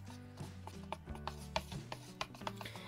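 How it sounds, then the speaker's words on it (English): An old stencil brush stirring a jar of Mod Podge, giving soft, brief scraping taps at an uneven rhythm, close and quiet, with no talking. "I'm going to give this a quick stir. And I'm going to use an old stencil brush for that."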